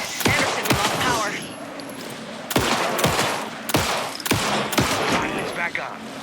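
Gunfire in the video game Alan Wake 2: several loud, sharp shots ring out in irregular bursts, each followed by a short echoing tail, over rumbling ambience and occasional voices.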